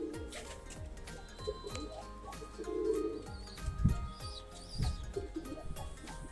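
Pigeons at a home loft coo in low, throaty bursts, several calls close by, mixed with light chirps and rustling.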